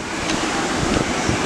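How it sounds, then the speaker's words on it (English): Steady rushing wind on a ferry deck buffets the microphone with a low roar, mixed with a constant broad wash like open water, no voices. "it is quite windy"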